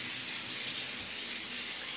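Warm tap water gushes steadily into a bathtub in a Japanese mountain lodge in Wakayama, producing a continuous, close, even rush with no voices.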